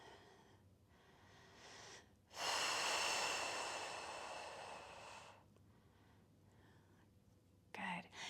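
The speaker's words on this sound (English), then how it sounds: "just breathe here" Slow, deep breathing during a Pilates reformer stretch, quiet and close, with one long audible exhale lasting a few seconds between softer breaths.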